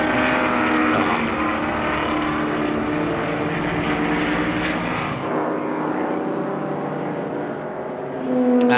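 Vintage GT production race cars lapping at Sonoma Speed Festival, a loud sustained engine roar passing close by that drops to a lower fading drone partway through, then swells again as another car approaches.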